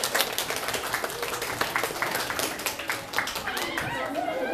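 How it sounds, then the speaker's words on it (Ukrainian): An audience at a school literary event gives lively, sustained applause, with many hands clapping rapidly and evenly and a few voices heard faintly through it. "Так, аплодисменти."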